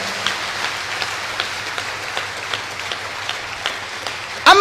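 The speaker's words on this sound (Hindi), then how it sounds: "एक बार तीनों महान पुरुषों के लिए जोरदार तालियां बजाओ।" Loud applause from an audience at a religious gathering, steady dense clapping that continues without a break.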